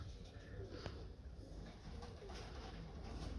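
Soft, low cooing from a black-tailed Persian pigeon repeats against a steady background hiss, fairly faint and close by, with no talking.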